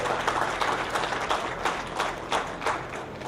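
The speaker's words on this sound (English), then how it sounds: "let's give these kids a round of applause again" Scattered applause from spectators at a 4-H/FFA goat show, with individual claps standing out as sharp, uneven bursts over a low background hum rather than a dense roar.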